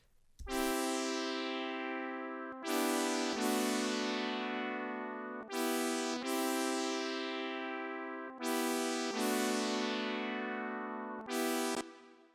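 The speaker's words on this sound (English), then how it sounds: "you're gonna want to make the sound like a cheesy 80s brass kind of sound" Bright, brassy 80s-style synth chords stab and sustain in a repeating pattern, loud and alone, each new chord swelling in with a sharp attack from the filter envelope.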